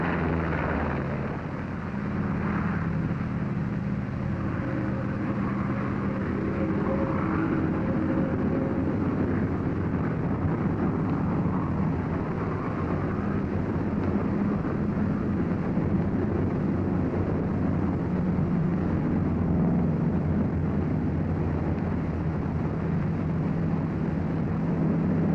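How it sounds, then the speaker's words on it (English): A 1943 P-47 fighter's engine drones steadily through its takeoff run down the runway, a loud, continuous low roar that holds for the whole stretch while someone narrates over it. "Throttle forward with a steady positive motion. You're flying your 47 down the runway."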